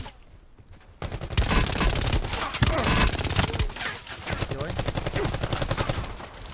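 Gunfire in a first-person shooter video game: dense rapid bursts of automatic fire that stay loud and continuous after a quieter opening second, with voices faintly mixed in.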